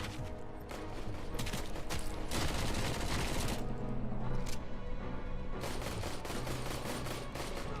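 Sustained automatic assault rifle fire in the video game Robocop: Rogue City, dense rapid bursts rattling on loudly almost without pause, broken by a couple of brief gaps and mechanical clicks.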